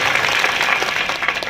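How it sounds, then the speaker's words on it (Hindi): Brief burst of dense, close applause from a crowd at a political rally greeting the BJP party president, steady and loud for its short length. "एक बार जोरदार तालियों से अभिवादन करें"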